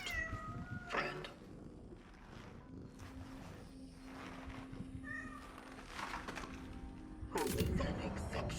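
A cat in the game Cronos: The New Dawn meows several times, fairly close, with a drawn-out call and shorter mews over low background ambience.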